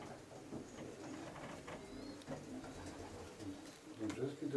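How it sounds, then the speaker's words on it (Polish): Pigeons coo softly in an aviary at a Polish racing-pigeon loft, low murmuring calls under rustling and background voices, faint and continuous with a louder burst at the end. "tych gołąbków, które siedzą w wolierze"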